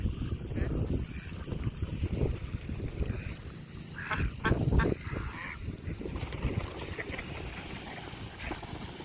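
Ducks quack and honk intermittently at moderate distance over a low, rumbling outdoor background, with a cluster of louder calls midway.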